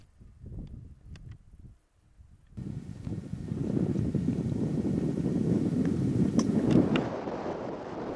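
After a brief quieter stretch with a few sounds, strong, icy wind near a mountain summit in New Zealand buffets the microphone in a steady, loud roaring rush that continues to the end.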